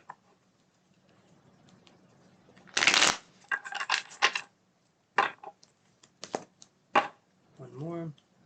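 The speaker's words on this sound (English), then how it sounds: "let's shuffle these ones a couple more times" Tarot deck shuffled by hand in several quick bursts of riffling, fluttering card noise, close and loud with short pauses between, and a brief voice at the end.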